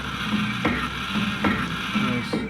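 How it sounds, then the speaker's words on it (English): A sawmill blade grinder runs with its grinding wheel spinning up, giving a steady close mechanical whir with a sharp clicking tick roughly every second or so. "you let the grinding wheel kind of get some momentum, then you start advancing it faster once you have that going"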